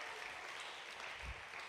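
An audience applauds a singer, a soft, steady wash of clapping heard at a distance and fairly faint throughout.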